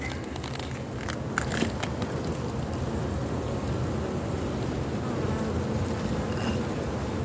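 A strong bee colony in a lead hive box buzzes steadily and densely throughout, a close, continuous insect hum with no talking.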